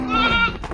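A goat gives one short, loud bleat close by, a wavering nasal cry that trails off into brief rustling noise.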